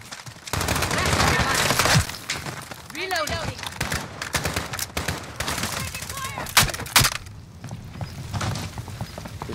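Rapid bursts of gunfire crackle in Modern Warfare survival mode, dense and loud with repeated shots and reload clatter, while a player talks over the fighting.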